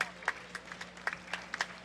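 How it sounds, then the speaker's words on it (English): Applause greets veterans marching in a town parade, heard as scattered, fairly faint clapping from a spread-out outdoor crowd, with a voice murmuring underneath. "they're getting applause everywhere"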